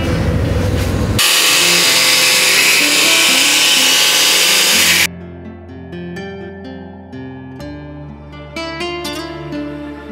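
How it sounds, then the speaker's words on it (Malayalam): A handheld cutting machine slices the top off a plastic plant pot while potting a dendrobium orchid, giving a loud sustained whine and grind that stops abruptly, followed by quieter intermittent clicks and knocks of handling. "അതൊരു കട്ടിങ് മെഷീൻ വെച്ചിട്ട് കട്ട് ചെയ്തെടുക്കുകയാണ്."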